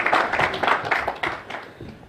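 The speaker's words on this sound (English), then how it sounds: "Shall we receive him on stage with a clap?" An audience at a climate change strategy launch event in Kenya claps to welcome a speaker on stage, a steady patter of many hands lasting a couple of seconds, fairly close and clear with no talk over it.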